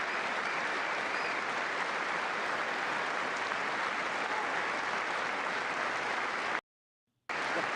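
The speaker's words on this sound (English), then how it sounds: "That's all those people around him clapping." A large crowd applauds in a steady, dense wash of clapping that holds at an even loudness. It cuts off abruptly near the end, with a brief silence before the clapping returns.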